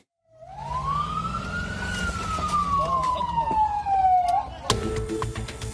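An ambulance siren wails in Tyre, South Lebanon, after Israeli airstrikes, a loud close tone sweeping up and slowly back down, then cut by a sudden broadband crash of noise.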